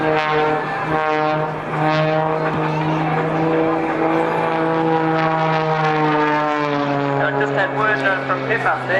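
Propeller aircraft flying a display at the Tyabb airshow, its loud steady engine drone with strong harmonic tones holding throughout, rising and falling slightly as it manoeuvres, with a commentator talking over it.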